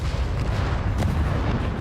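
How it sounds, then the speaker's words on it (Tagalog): Bombs dropped by a jet in an air strike in a war film detonate in a dense series, a loud continuous rumble of low booms filling the whole short stretch. "Sunod-sunod ang pagsabog"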